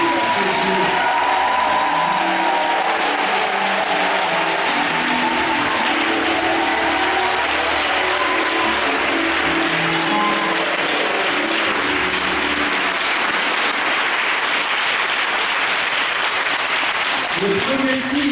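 Sustained applause from a church congregation during a Mass for the sick, dense steady clapping filling the space for the whole stretch, with faint murmuring voices mixed underneath.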